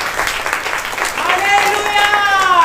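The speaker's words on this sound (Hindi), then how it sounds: "ताली बजा के प्रभु" A church congregation claps together for the Lord in a steady, continuous patter. A sustained tonal sound and murmuring voices run underneath.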